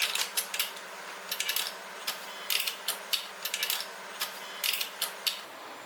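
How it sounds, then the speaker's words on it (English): Bolts on an exercise bike are tightened with a multi-wrench, producing rapid ratcheting clicks in short bursts over a steady faint hum, close and fairly quiet, with no speech. "Tighten the bolts with the multi-wrench."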